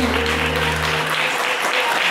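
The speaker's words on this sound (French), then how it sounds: "Vous pouvez applaudir Olivier très très fort" An audience breaks into applause at a live music performance, steady clapping that builds, heard over a fading sustained musical tone.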